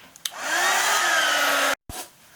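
A hair dryer runs steadily for nearly two seconds, drying acrylic paint on small mixed-media art tags made from recycled material. It hums loud and close, then cuts off sharply before a brief restart.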